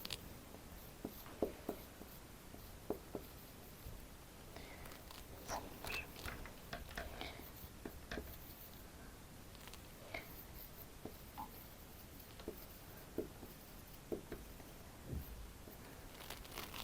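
Pen writing a physics definition by hand, faint scratchy strokes and soft taps scattered irregularly over a quiet room background, with no talk.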